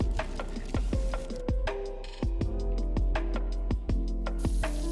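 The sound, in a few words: tri-tip searing in butter with rosemary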